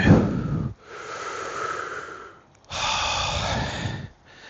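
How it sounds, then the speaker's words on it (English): Heavy, deliberate breaths taken before getting into a cold plunge at Christmas, two long loud rasping inhale-exhale pushes separated by a brief pause, close and alone with no talk. "I'm not going to get in there without getting the breathing right"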